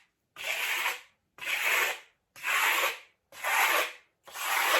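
A Japanese trowel spreads lime plaster across a bathtub surround wall in five steady, even strokes, each a broad rasping scrape about a second long with brief pauses between, close and alone without talk.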